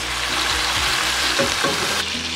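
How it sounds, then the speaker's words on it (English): Pork sizzling and browning in its own rendered fat in a pan, cooked for Filipino pancit bihon, with a steady close frying hiss and a few stirring scrapes near the end. "cook it for probably 5 minutes until the pork is a little brown"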